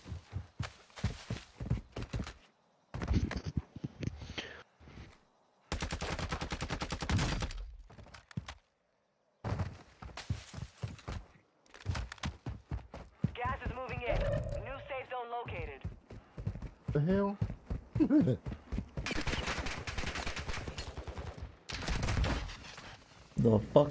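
Video game gunfire crackles in sharp bursts separated by brief silent gaps, alongside frequent excited talking from players.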